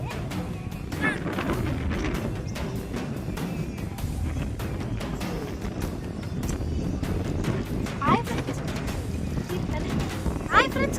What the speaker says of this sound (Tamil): காற்று செம்மையா அடிக்குது.